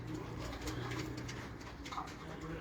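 Pigeons of a prized bloodline coo in a loft, soft repeated calls close by against steady background noise.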